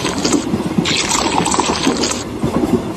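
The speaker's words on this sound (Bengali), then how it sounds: "ফ্লাস্ক থেকে দু কাপ কফি ঢাললাম" Coffee poured from a flask into two cups: a close, continuous liquid pour with a bright splashing fill that rises and falls over a few seconds, without talk.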